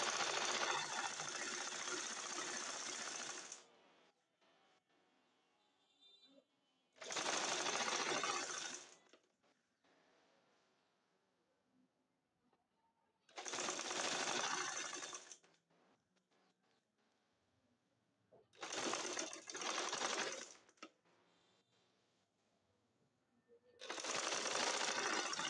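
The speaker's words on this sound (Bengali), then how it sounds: "গলাটা উল্টো করে আমি তার উপর চাপ সিলি দিয়ে নিব।" A sewing machine stitches the neckline of a two-colour Naira dress in five loud, rapid, buzzing bursts, each a few seconds long, separated by quiet pauses with faint handling sounds.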